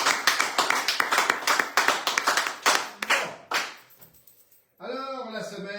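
Applause rings out from a live radio-show audience, a dense run of claps for about three seconds that thins into a few scattered hand claps and then stops, followed by a voice speaking.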